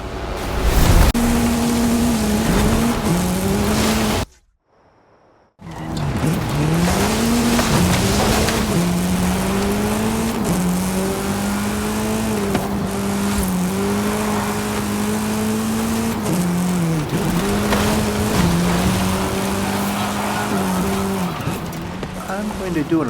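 A Hoonigan RS200 rally car in a driving video game roars steadily, its engine note rising and falling through gear changes with a brief dropout early on, loud and continuous while a person talks over it.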